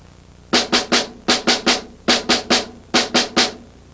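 Snare drum primary strokes of a 5-stroke roll ring out in clean groups of three even taps, with short pauses between the groups. They sound crisp and close and are played alone, with nobody talking.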